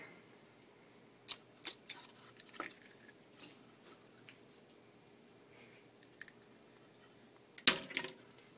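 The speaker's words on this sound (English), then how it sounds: "you have to crack the eggs into the bowl" Eggs cracked into a bowl while making chocolate chip cookies: a few faint, sharp taps and clicks scattered through quiet, then a louder crack and splatter near the end.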